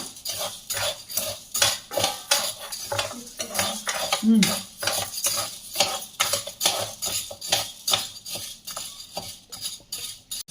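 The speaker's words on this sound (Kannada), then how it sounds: "ಉದ್ದಿನಬೇಳೆ ಸ್ವಲ್ಪ ಕಂದು ಬಣ್ಣ ಬರೋವರೆಗೂ ಫ್ರೈ ಮಾಡಬೇಕು" Urad dal frying in a pan while a spoon stirs it, rapid metallic scrapes and clinks against the pan repeating steadily over a soft sizzle.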